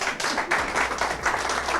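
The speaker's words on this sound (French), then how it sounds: "Applaudissez pour lui." A crowd at a Canadian visa handover gathering claps for an immigration consultant, with loud, closely spaced bursts of hand claps forming an uneven, pulsing rhythm throughout.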